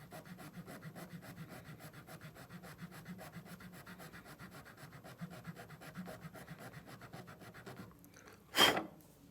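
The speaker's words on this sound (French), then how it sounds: "me repositionner éventuellement l'orientation de ma lime pour améliorer la jonction que je peux avoir entre ma branche et la face" A hand file rasps back and forth on an eyeglass frame, shaping the joint between temple arm and front, in steady rhythmic strokes close up, followed by a brief sharper scrape near the end.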